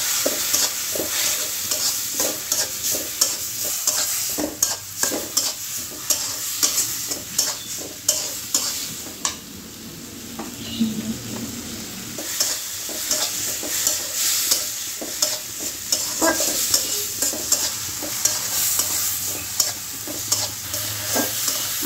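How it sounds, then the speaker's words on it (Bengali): Spice paste of ground cumin and ginger with chili, turmeric and coriander powders sizzles in a pan while being stirred, with steady frying hiss and frequent spatula scrapes throughout. "সুন্দর করে মশলা কষিয়ে নিয়েছি।"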